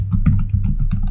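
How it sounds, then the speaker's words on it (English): Rapid, close keystrokes on a computer keyboard as a git command is typed, a brisk run of crisp clicks with no pauses. "type in git --version to check"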